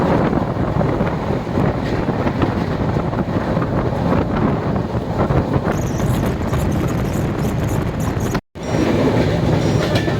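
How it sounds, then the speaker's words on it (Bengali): A Tamralipta Express passenger train running from Howrah to Digha rumbles steadily on its rails, a loud, continuous roar with faint clickety-clack and wind noise, heard from on board with a brief dropout near the end. "আর এই মুহূর্তে আমাদের ট্রেনের স্পিড হলো এই।"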